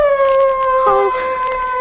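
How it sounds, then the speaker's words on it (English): Dogs howling in an old-time horror radio drama, long sustained wavering howls overlapping one another at a steady, fairly loud level. "Those dogs. You set one's spine a-tingling."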